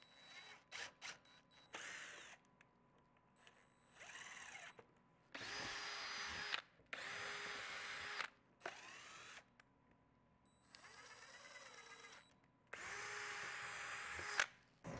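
A power drill bores pilot holes right through wood for countersinking, in about six separate loud bursts of whirring with short pauses between, close by and with no talking.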